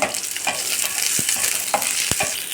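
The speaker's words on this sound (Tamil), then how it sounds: "சின்ன வெங்காயம் ஒரு பத்து சேருங்க பூண்டு ஒரு பத்து பல் அதையும் வதக்கிக்கோங்க" Shallots, garlic and ginger sauté in a hot pan with a steady sizzle, punctuated by several sharp scrapes and taps of a stirring spoon against the metal, close and fairly loud.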